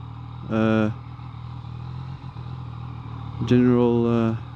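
Yamaha MT-09 motorcycle rolls at low speed with a quiet engine hum, broken by two short rising revs, one early and a longer one near the end.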